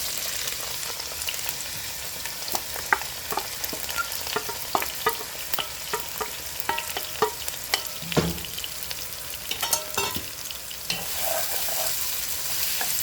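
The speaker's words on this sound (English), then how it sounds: "So we just want to saute this to get the flavors released into the pot" Bell peppers, thyme and cayenne pepper sauté in a pot for Bahamian rice, giving a steady close sizzle broken by frequent sharp scrapes and clacks of stirring, alone without talk.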